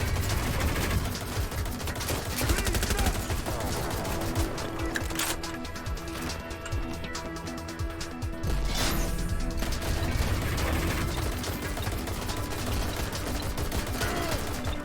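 Gunfire in the video game Watch Dogs Legion: dense volleys of shots and crashing impacts keep up loudly and almost without pause, mixed with in-game mechanical noise.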